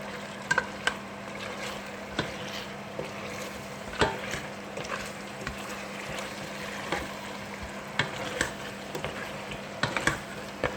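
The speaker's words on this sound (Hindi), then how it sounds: "अब इसको 1-2 मिनट के लिए भून लूँगी" Spice paste frying in a pan for an aloo mutton curry gives a steady, close sizzle with soft scattered crackles and stirring clicks throughout, with no talking.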